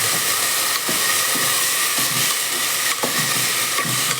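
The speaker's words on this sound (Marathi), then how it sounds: "त्यानंतर मस्तपैकी हलवून घेऊया" Moth bean (matki) stir-fry with fish tossed in a pan, a steady close sizzle and hiss with a few soft scraping stirs at roughly one-second intervals, no voices.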